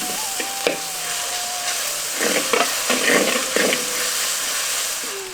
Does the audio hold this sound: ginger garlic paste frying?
yes